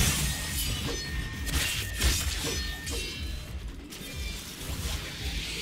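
Glass shatters in the video game Shadow Warrior 2, with crashing bursts and crackling breaks scattered through dense, noisy game action.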